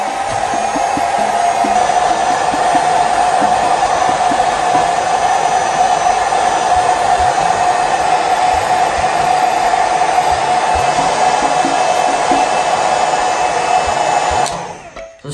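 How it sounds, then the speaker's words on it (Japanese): A hair dryer blows steadily on a wet fringe while the hair is lifted and dried, a loud, constant whooshing hum running unbroken for about fourteen seconds before cutting off abruptly. "前髪を濡らして、ドライヤーで前髪を乾かしながら上げていきます。"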